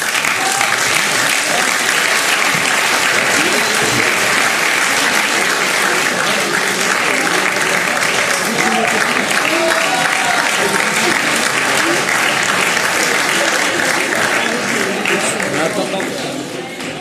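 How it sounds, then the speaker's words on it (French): Sustained, loud applause from an auction audience for the buyer of Johnny Hallyday's jacket, dense and steady throughout with crowd noise mixed in, tapering slightly at the very end. "On va l'applaudir très fort."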